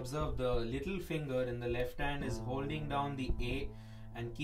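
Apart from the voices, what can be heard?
No everyday noise stands out behind the speech.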